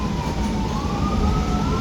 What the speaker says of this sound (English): Got some ambulance behind the bus.